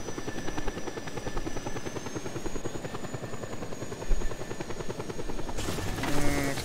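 A helicopter in the video game Just Cause 2 keeps up a continuous rotor chop and engine whine, loud and close throughout, with a thump and a sharper mechanical burst toward the end.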